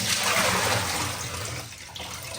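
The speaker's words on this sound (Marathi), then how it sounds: "तर पुन्हा एकदा आपल्याला हे छान धुवून घ्यायचं." Water splashing and pouring while a clay matka is rinsed clean of fine red soil, a continuous close wash of sound that eases slightly toward the end.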